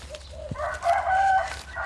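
A rooster crows once, fairly close, a rising then drawn-out call over a quiet outdoor background.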